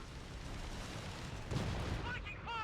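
An artillery barrage in the real-time strategy game Company of Heroes 3, a muffled distant boom rumbling under steady battle noise, with a brief voice or whine at the end.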